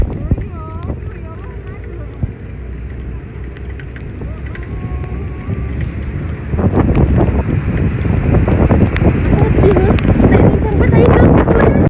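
Strong tornado wind roars over a village cemetery in Sidoarjo, Saradan, Madiun, rising into heavy, loud gusting wind noise buffeting the microphone about halfway through, with people talking and calling out amid the storm.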